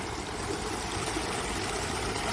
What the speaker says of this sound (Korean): 와, 물소리 시원하고 너무 좋다.